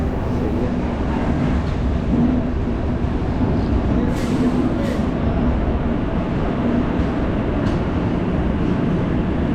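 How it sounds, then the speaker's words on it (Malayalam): The Sampark Kranti Express slows through Guntakal Junction as heard from inside a sleeper class coach, a loud, steady rumble of wheels and carriage noise that continues without a break, with faint higher rattles now and then. "അവിടെ ട്രെയിൻ ഏതെങ്കിലും സ്റ്റോപ്പ് ചെയ്തില്ല, ജസ്റ്റ് ഒന്ന് സ്ലോ ഡൗൺ ചെയ്ത് പിന്നെ അങ്ങ് വീണ്ടും മുമ്പോട്ട് വരും."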